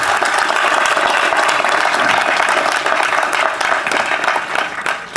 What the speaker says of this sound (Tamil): இந்த அரங்கமே அதிர மாதிரி அப்பாவுக்கு பலத்த கரகோஷம் கொடுங்க.